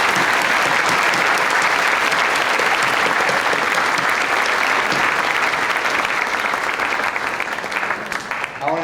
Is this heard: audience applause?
yes